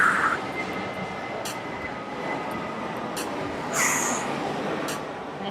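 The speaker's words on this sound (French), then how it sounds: "Il y a vraiment beaucoup d'avions qui passent derrière." Airplanes pass overhead in a steady, broad roar that swells and fades, fairly loud and continuous, with a few faint higher clicks and tones scattered over the rumble.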